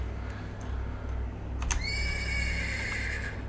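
A horse in the Black Book video game neighs in distress, a loud drawn-out whinny with a quick rising burst that rings on for about two seconds over a steady low background hum.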